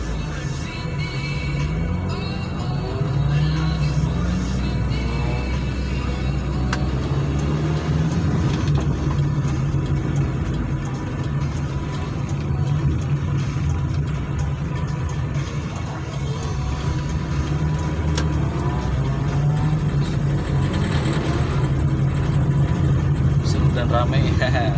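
Engines idle and rumble in a traffic jam during a Toyota Starlet club anniversary convoy, a steady low drone of nearby cars heard from inside a vehicle, with someone talking over it much of the time.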